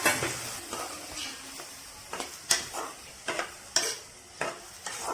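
Chopped tomatoes frying with spices in a pan for chole paneer, stirred with a utensil in repeated scraping strokes that come every second or so over a low sizzle, close by.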